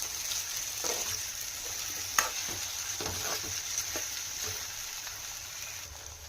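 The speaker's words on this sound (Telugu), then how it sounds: "ఉల్లిగడ్డ, పచ్చిమిర్చి 1 నిమిషం అలా కలుపుకొని తర్వాత ఆలుగడ్డలు కూడా వేసుకొని కలుపుకోవాలి" Onion, green chili and skin-on potato pieces fry in a pan under a low, steady sizzle, with regular spatula scrapes and a sharper clink partway through, close and unaccompanied by speech.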